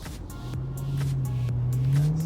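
A Nissan GT-R R35 revs close by at a car show after-party, its engine note holding and climbing steadily as it pulls away, loud and continuous over a short stretch.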